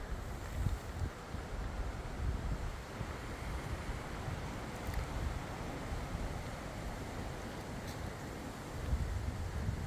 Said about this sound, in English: I know the wind is affecting the audio on my phone